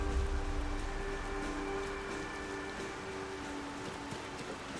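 Steady rainfall from a video game, a soft continuous hiss of drops on surfaces with a faint low hum beneath, even and unbroken throughout with no talking.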